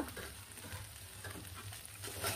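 Taki fish chutney being stirred in a pan, a soft steady sizzle with faint scraping strokes, quiet and close, no voices.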